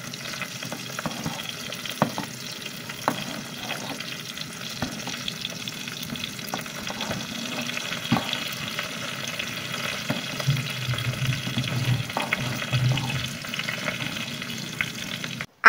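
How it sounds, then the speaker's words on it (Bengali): Tamarind pickle simmering in a pan with jaggery, slowly stirred, giving a steady low sizzle with scattered scrapes and clicks of the spoon throughout, no voices. "আস্তে আস্তে নাড়াচাড়া দিতে থাকবো"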